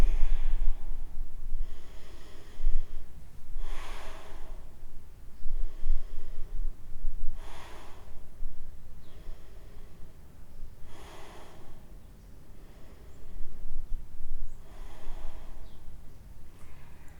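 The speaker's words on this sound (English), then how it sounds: "Take 3 deep breaths here, prostration pose" Slow, deep yoga breaths in prostration pose: about five long, soft inhale-exhale cycles spaced a few seconds apart, close and quiet, with no talking.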